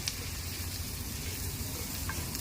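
Garlic fries in butter with a constant close sizzle and fine crackle throughout, carrying a low rumble underneath and a few faint clicks.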